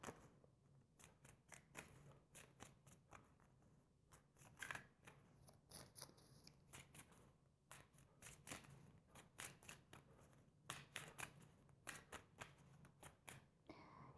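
Tarot cards are shuffled and handled in quick, rapid riffles and snaps that come in bursts with short pauses between them, close and fairly quiet, with no talking over them.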